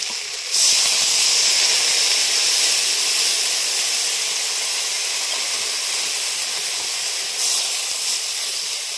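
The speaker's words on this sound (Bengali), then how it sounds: "এবার আমি জল দিয়ে দেব" Water poured into a hot pan for a live desi magur fish curry bursts into a loud, sustained steam hiss that runs steadily for several seconds, with a brief surge near the end.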